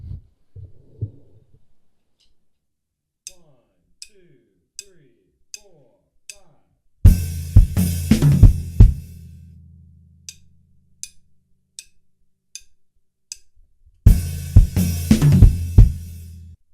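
Sparse clicky taps at first, then two loud bursts of rapid low bass drum hits with cymbal wash in a drum fill, each rolling through several strikes before ringing out.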